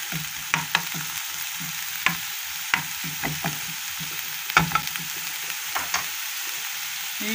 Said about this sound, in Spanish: aquí tengo una sartén, estoy blanqueando una cebolla cabezona